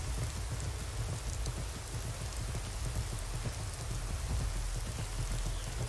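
Steady rain pours in a cloudy Skyrim game world, a dense, even hiss of falling drops with faint low rumbling beneath, continuous and unbroken throughout.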